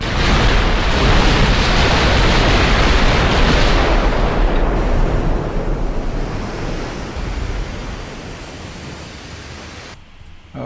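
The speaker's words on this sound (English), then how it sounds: "big guns opening up." Big battleship guns open fire in the naval game Ultimate Admiral Dreadnoughts during a 1920 US fleet action. A loud, sustained roaring blast rolls on for several seconds and then slowly fades, with no talking.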